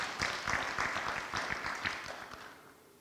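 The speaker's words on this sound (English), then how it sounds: "I think you can really give us a round of applause." Moderate applause from an audience at a university-focused talk, individual claps audible in a loose rhythm before the sound gradually thins and fades out.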